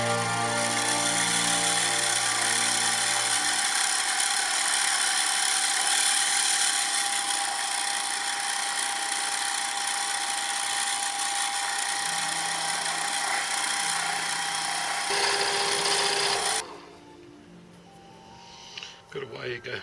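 A Gingery milling machine spindle, unbalanced, runs steadily with a loud high-pitched whine for about sixteen seconds and then cuts off, leaving only faint noise and brief clicks.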